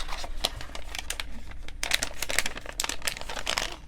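Sheets of origami paper are folded and creased by hand, giving close, crisp crinkles and short rustling bursts in quick irregular succession.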